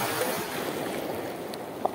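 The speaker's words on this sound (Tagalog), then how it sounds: "Malaking alon." A big ocean wave surges and washes in as a short, close burst of churning water and spray.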